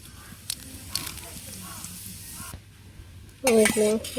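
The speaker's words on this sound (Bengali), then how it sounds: "জিরা দিয়ে দিই" Cumin seeds sizzle in hot oil in a wok during home village cooking, a soft steady crackle under faint kitchen clatter, with a person's voice breaking in loudly near the end.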